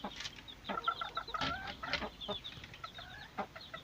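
An Ardennaise hen in a henhouse, waiting to lay an egg, gives a close string of short, quick clucks in an uneven rhythm, fairly quiet with no other voices.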